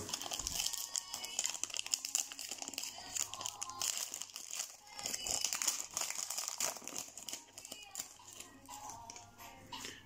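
Packs of basketball trading cards are torn open up close, with crinkly wrapper crumpling and tearing sounds coming in busy bursts while a voice speaks softly in the background.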